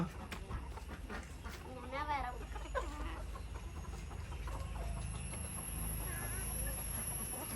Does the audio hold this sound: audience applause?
no